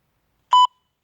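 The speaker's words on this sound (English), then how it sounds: "Wait for that beep." A single short electronic timer beep during a Pilates workout, clear and close, in otherwise silence.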